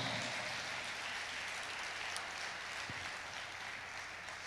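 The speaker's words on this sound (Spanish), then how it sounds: "dale fuerte, fuerte ese aplauso" A church congregation applauds during a sermon with a continuous, even wash of distant clapping that holds at a moderate, slightly muffled level throughout.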